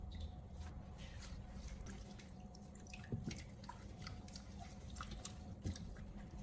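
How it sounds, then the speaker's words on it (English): Faint splashing and dripping as cilantro and mint leaves are swished through water, soft and continuous with occasional small drips over a low background hum. "Gently stir and wash each herb to remove dirt, sand, and some residue from the leaf surface."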